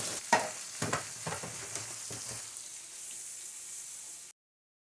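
Crushed tomatoes from a can sizzling in a hot pan, a steady frying hiss punctuated by several sharp pops and spatters early on, fairly faint and fading out at the end.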